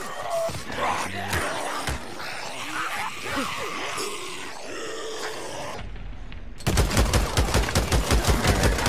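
Gunfire in the video game Days Gone: muffled shots and struggle sounds give way to a loud, rapid burst of automatic fire at the end.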